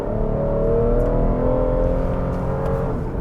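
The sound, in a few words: Toyota Highlander V6 engine revving during brake torque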